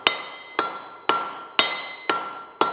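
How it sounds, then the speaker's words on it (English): A blacksmith's hammer strikes the face of an anvil six times at an even pace, each blow a bright metallic ring that decays before the next, loud and close with no voices. "you shouldn't have to stop and hit the hammer on the face of the anvil"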